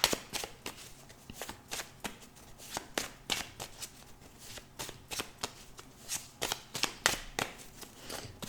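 Tarot cards shuffled by hand in steady, rapid riffles and slaps, close and fairly loud, continuing for several seconds with no talking over it.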